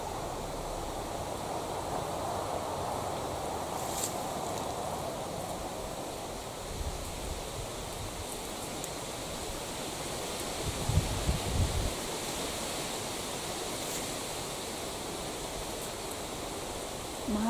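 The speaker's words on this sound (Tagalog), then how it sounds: "Mahangin kasi guys." Wind blows outdoors among cherry trees, a steady broad rush with leaves rustling and a few low gusts buffeting the microphone, and no one speaking.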